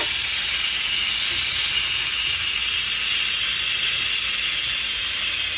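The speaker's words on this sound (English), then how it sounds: "So I'm going to take this pot holder and hit it this way to vent it." Steam blasts from the pressure release vent of an Instant Pot cooking chili, a loud, steady, close hiss that holds unbroken for several seconds with no talking.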